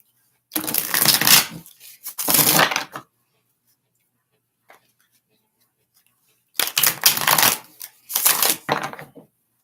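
Cards are shuffled for a card reading in four loud riffling bursts close to the mic. The first two come one after the other, then there is a quiet gap with one faint tap, then two more bursts.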